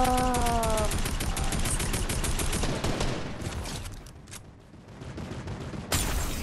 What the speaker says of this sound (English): I'm getting shot now